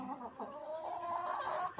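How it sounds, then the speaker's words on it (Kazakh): Several hens cluck close by in a steady, busy stream of short calls, with no talking over them. "Қазір менде 11 тауық, бір қораз."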